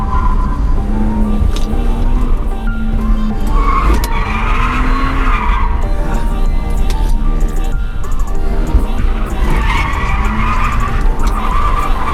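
Loud, continuous tire squeal and engine roar from a BMW E46 drifting on a wet track in the rain at Willow Springs, the screech rising and falling over sustained motor noise.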